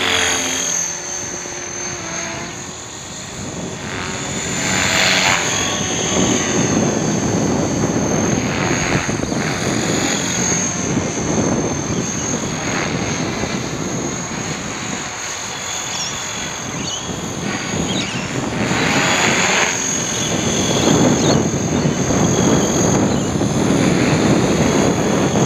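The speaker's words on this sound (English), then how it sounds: "So tell me what's wrong with that helicopter" A Hobbyking RC helicopter flies overhead with a continuous whining, buzzing rotor and motor drone that swells and fades gently as it moves, with no voices heard.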